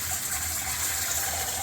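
Cold water gushes steadily over blanched peas in a kitchen, a continuous close rushing splash with no pauses and no talk.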